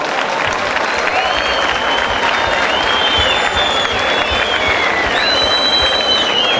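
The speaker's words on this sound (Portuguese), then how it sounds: "eu queria que todos dessem uma salva de palmas aí pro Paulinho" A big crowd at a supporters' group 36th anniversary party bursts into steady, loud applause mixed with cheers and whistles, filling the whole stretch with dense clapping and no break.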